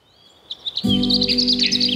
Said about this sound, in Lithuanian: Vieną rytą jie išgirdo čirškėjimą sklindant iš ąžuolo.